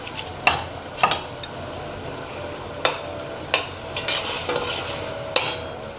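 Pork cubes sizzle and fry in their own rendered fat for Bicol Express, a soft steady crackle under sharp metal clinks of a spatula stirring against the pan every second or so.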